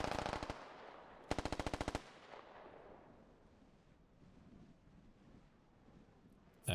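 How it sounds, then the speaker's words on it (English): Suppressing machine gun fire in a video game: two loud, rapid bursts of automatic fire in quick succession, followed by a low, quiet battlefield ambience. "Squad 2, confirm intent to provide suppressing fire on Charlie 498."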